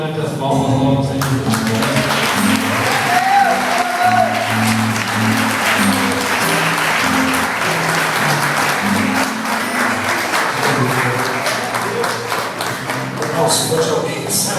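A church congregation claps steadily through a long stretch while music plays underneath, the applause broad and continuous, with voices faintly mixed in.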